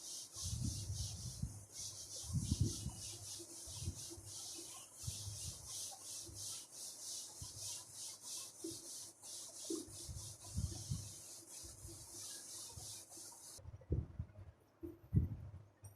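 Rubbing strokes wipe writing off a classroom board, each swipe a soft scratchy brush that repeats in a steady back-and-forth rhythm, close and moderately quiet, with no talking.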